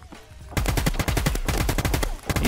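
Rapid bursts of automatic gunfire in a tactical shooter game ring out loud and close after a quiet start, a dense stream of sharp shots with only brief gaps.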